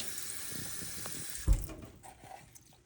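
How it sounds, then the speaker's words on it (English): Water runs from a tap for cleaning coins, a steady hiss that tapers off after a single low thump. "And now I'm gonna just add the water, the soap, throw the pennies in."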